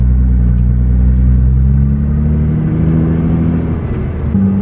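A Nissan GT-R rolls along slowly with a loud, close, low engine rumble and drivetrain drone that shifts in pitch, with no talking.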